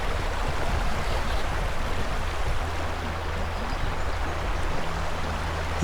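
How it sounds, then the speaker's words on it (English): Steady rushing and burbling of river water around someone wading across a trout river, broadband and continuous at close range with no talk. "Now this is wading across the river"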